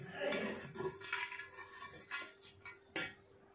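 Chicken momos set one by one into an oiled steaming pot: quiet clinks and light knocks against metal, a few separate soft placements with a faint hum underneath, close by.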